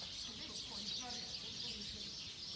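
Dense chorus of sparrows chattering at their night roost in Tsukuba, a continuous high twittering wash with faint clucking-like calls underneath, steady and moderately distant.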